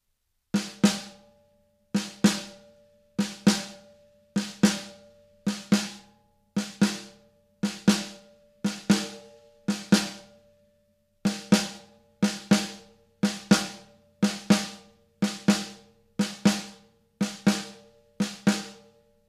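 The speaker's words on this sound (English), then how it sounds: "So if I were to play it on the snare drum, it would sound like this." Repeated pairs of crisp snare hits, one-handed double strokes, evenly spaced bursts with short pauses between, played alone and fairly close.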